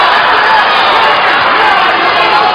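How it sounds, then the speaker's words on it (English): Boxing arena crowd at the Paul Butler vs Zolani Tete fight, a steady dense murmur of many voices filling the space, fairly loud and continuous without big cheers. "Crowd sort of a little bit muted at the moment"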